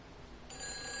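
A telephone rings in the game Everybody's Gone to the Rapture, a single brief, faint electronic ring tone.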